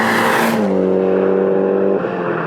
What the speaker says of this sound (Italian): la macchina che ho provato oggi è probabilmente la Evo 6 migliore che mi potesse capitare di provare, una Tommy Mäkinen RS